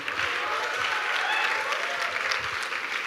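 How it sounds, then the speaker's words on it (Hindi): Audience applause fills a university auditorium session at IIT Delhi, a steady dense clapping from a large crowd that holds at an even level throughout, with no talk over it. "एक बार दोनों के लिए दो जोरदार तालियां."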